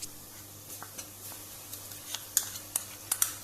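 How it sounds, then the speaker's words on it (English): Ginger garlic paste goes into golden brown onions frying in a pan for lamb korma, giving a quiet, low sizzle with soft stirring scrapes and a few sharp ticks near the end, with no speech. "the onions are nice and brown, golden brown. At this stage, we add ginger garlic paste."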